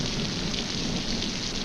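Steady rain falling in a tropical jungle, a dense, continuous hiss of drops on leaves and surfaces with a faint low rumble beneath, even and unbroken throughout.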